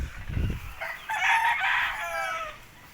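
A broodcock rooster crows once, a clear drawn-out cock-a-doodle-doo at moderate distance, preceded by a brief low thump or rustle nearby.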